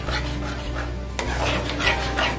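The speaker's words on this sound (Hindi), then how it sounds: "वो टोमेटो केचप को भी मैं 2 टेबलस्पून जैसा डाल दूंगा और इसको ऐसे अच्छे से मिला लूंगा।" Tomato ketchup is mixed into a sandwich filling for a paneer grilled sandwich, with close, steady spoon scraping and stirring against a bowl and a few light clinks.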